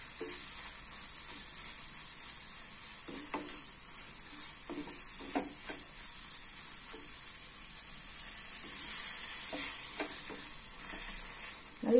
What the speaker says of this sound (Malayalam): അപ്പൊ നമുക്ക് ഇതിനകത്ത് കുറച്ച് തിളച്ച വെള്ളമാണ് ഞാൻ ഒഴിക്കുന്നത്